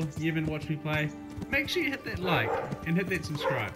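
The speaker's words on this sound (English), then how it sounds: "That's just my dog Blue" A dog named Blue barks and yips repeatedly in the room, several sharp close barks with whimpery tails, mixed in with someone talking over them.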